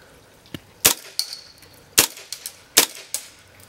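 Single shots from an H&K KWA MP7 airsoft gun firing 0.2 gram BBs, sharp close cracks spaced about a second apart, each with a quick rattling snap of the mechanism.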